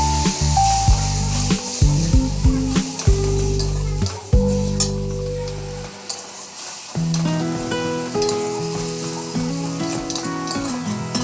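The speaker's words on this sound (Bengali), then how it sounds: "তারপর অল্প করে জল দিয়ে মশলাটা ভালো করে কষে নেব।" Bengali ghugni spice masala is stir-fried with a splash of water in a pan, a hissing sizzle and stirring scrapes running under prominent background music.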